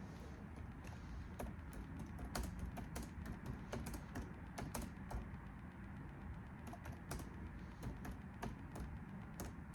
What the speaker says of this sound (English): People, let me type something,